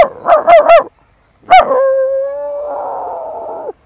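A man imitates a dog, giving three quick loud barks, a pause, then a sharp yelp that stretches into a long sustained howl; close and clear, with nothing else audible.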